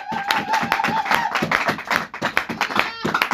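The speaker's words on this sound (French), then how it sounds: "Applause for the glory of the Lord." A church congregation claps in dense, steady rhythm for several seconds, the close, busy patter of many hands continuing under a voice that rises over it.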